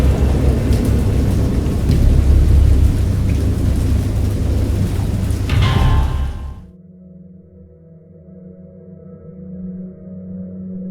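Loud rain and rolling thunder from a storm in the video game Dagon pour down steadily for several seconds, then cut off abruptly into a quiet, low droning ambience.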